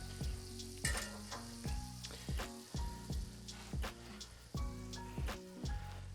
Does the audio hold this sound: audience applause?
no